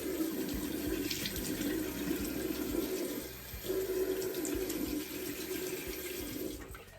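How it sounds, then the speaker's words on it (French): Tap water runs steadily into a bathroom sink as a face is wetted with cool water, a continuous close splashing flow with a brief dip midway, no voices. "je mets toujours un peu de l'eau fraîche pour rafraîchir le visage"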